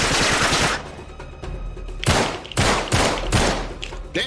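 Rapid automatic gunfire in Uncharted 3: Drake's Deception, loud and close, with a dense opening burst followed by several sharp, separate shot volleys, alone without talk.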